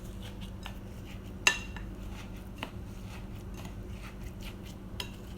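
A spoon stirs a quinoa and oat bar mixture with added protein in a bowl, making soft scraping and clinking taps with one sharper knock near the start, steady and close with no voices.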